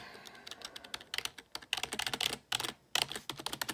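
Brisk typing on a long Razer gaming keyboard, a dense run of sharp key clicks in quick bursts with short pauses, close and clear with no talking.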